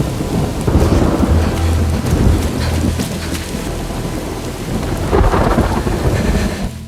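A thunderstorm with loud, rolling thunder rumbles over steady heavy rain, with one big roll early on and another swelling near the end, no voices present.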